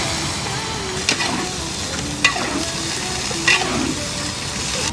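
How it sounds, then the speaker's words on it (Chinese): Chicken pieces sizzle and fry in a wok at a village banquet cooking station, with a steady loud sizzle broken by three sharp stirring scrapes, all without speech. "鸡块入锅啊！"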